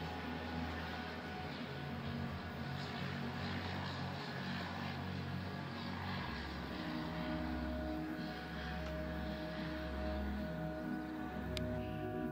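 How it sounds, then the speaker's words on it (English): A float plane's propeller engine drones steadily and evenly across nearby harbour waters by a marina in the Vancouver or Seattle area, a distant, low-level hum with a shift in pitch midway through. "float planes land and take off on nearby waters"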